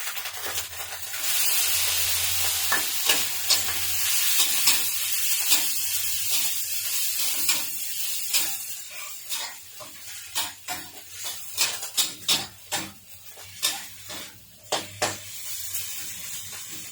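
Pork stir-frying in a hot pan for a spicy bean stir-fry, a steady sizzling hiss broken by sharp clinks and scrapes of a spatula against the pan, growing busier toward the end.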